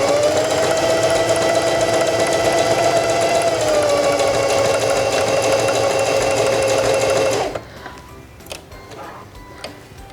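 A Singer Heavy Duty 4411 sewing machine stitches a buttonhole, running as a loud, steady, fast mechanical whir with a constant pitch for about seven seconds before it stops abruptly, leaving faint clicks.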